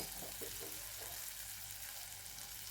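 Eggplant pieces dropped into hot oil, frying and sizzling as they're sautéed; a steady, dense sizzle runs throughout at an even level, close and alone.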